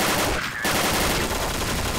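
Loud, continuous automatic gunfire fills a short stretch of Counter-Strike: Source, broken by one brief pause before the rapid shots resume at close range.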